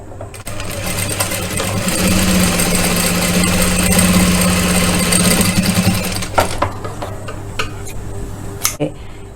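A sewing machine stitches a blouse with a steady, close mechanical whir that builds, then gives way to a few sharp clicks and knocks.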